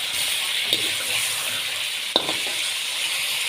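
Chicken for a black pepper karahi fries in a karahi pan with a steady, close sizzle, broken by a couple of sharp stirring clinks.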